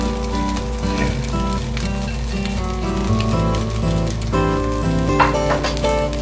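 Chopped vegetables hiss and sizzle in a hot pan for Japanese-style yakimeshi fried rice, a steady close frying crackle running under loud background music.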